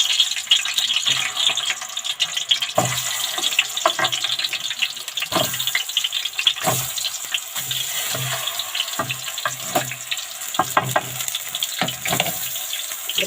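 Kofta dropped into hot oil in a home kitchen, frying with a steady, close, bright sizzle broken by sharp crackles and pops for the whole stretch, with no talking.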